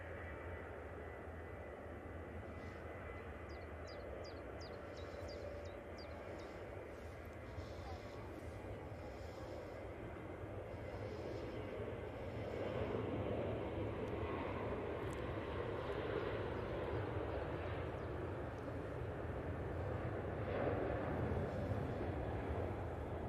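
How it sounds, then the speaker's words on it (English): Ryanair jet taking off at Manchester Airport, a distant engine roar that swells gradually as the aircraft rolls, with a voice talking over it. "this Ryanair now on the roll"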